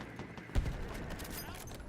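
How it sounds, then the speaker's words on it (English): A horse's hooves clopping in the video game Battlefield 6, a few quiet hoofbeats with a brief thump, faint and low under background game noise. "Wait, what? How did a horse get up here?"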